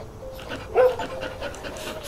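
A dog in the video game Hello Neighbor 2 pants steadily in quick, close, moderately loud breaths, with a short whine-like tone near the middle.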